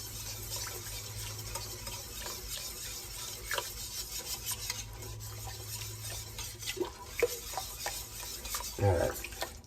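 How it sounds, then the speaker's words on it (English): A spoon stirring pumpkin and apple soup in a pot, with soft scraping and sloshing, occasional metallic clinks, and a faint bubbling simmer underneath. "Stir that in there."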